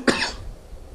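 A single sharp cough, close and fairly loud, in a hot room with a fan running, followed by a faint low hum of background noise.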